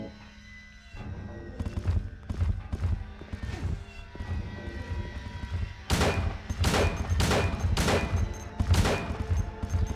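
Gunfire in the video game Silent Hill 2 Enhanced Edition: a burst of loud, sharp gunshots around the middle, then five or six evenly spaced heavy shots near the end, over a dense, murky game soundscape.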